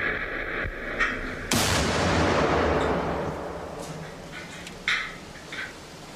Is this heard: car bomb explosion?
yes